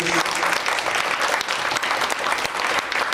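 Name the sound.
applause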